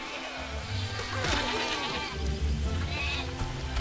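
Sheep bleat in the video game Overlord, a loud nearby bleat with a wavering, breathy tone over faint game ambience and buzzing, and no talk.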